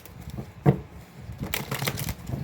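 Thin tarot cards being shuffled by hand, a close, dry riffle of flicking card edges in several bursts with short pauses between, no talk.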